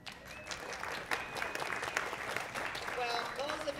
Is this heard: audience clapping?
yes